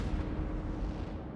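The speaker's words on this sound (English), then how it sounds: "the Eagle unleashes a full broadside against the pirate sloop" A ship's cannons fire a full broadside at a pirate sloop, a dense continuous roar of heavy booming that stays loud throughout, with no voices.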